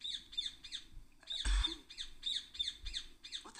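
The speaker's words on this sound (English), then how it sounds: "What the hell's up with that bird?" A bird in the video game République gives a run of harsh, crow-like squawks in quick repeated bursts, separated by a brief louder rustling burst midway; faint overall and with no speech.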